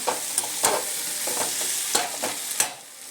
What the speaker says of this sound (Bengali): এই এঁচড়গুলো ভাজছি